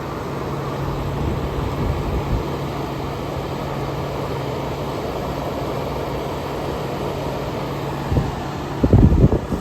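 A 1994 Fedders 10,000 BTU window air conditioner with a Rotorex rotary compressor, slightly out of balance, runs with a steady, even hum and airy fan noise, and a few louder thumps and rattles come near the end.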